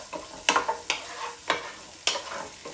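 Pancetta frying in a pan for pasta carbonara, with a steady low sizzle broken by several sharp clattering stirs at regular intervals, close and moderately loud with no talking.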